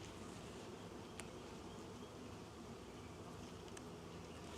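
Honey bees buzzing around a backyard hive during an early spring inspection in Florida, a dense, steady swarm drone that is fairly faint and continuous, with no talk.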